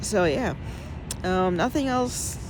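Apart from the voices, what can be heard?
No distinct noise like a dog, phone or traffic.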